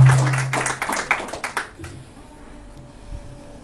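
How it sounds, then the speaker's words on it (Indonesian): A room of people clap together for the parents at a gathering, a crisp burst of claps that trails off into scattered final taps and quiet. "Tepuk tangan buat orang tua."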